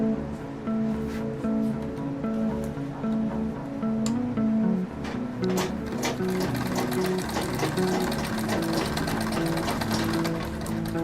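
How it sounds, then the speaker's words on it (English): Sewing machine stitching along the side of a sack, a continuous fast mechanical whir with rapid needle ticks that grows busier and louder partway through, steady and close with no talk. "I've sewed the first one and let me do the second one."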